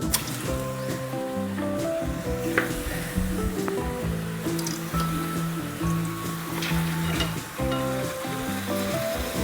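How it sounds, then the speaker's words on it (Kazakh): Continuous bubbling sizzle of chips frying in hot oil, fairly quiet, with a low hum and faint clinks in the background. "Енді біз қызып тұрған майда біздің чипсыларымызды пісіреміз."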